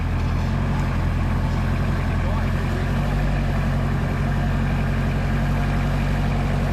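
A Toyota Hilux LN106 rock crawler in its lowest gear grinds its engine steadily while crawling over a rock, a loud continuous low drone close by, with voices talking over it.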